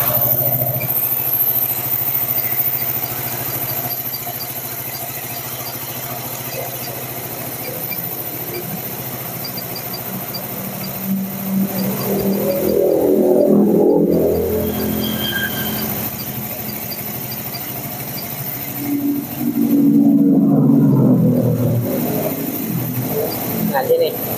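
A Honda Sonic 150 motorcycle, prone to overheating in traffic, is started and left idling, giving a steady low engine drone throughout while someone talks over it at times.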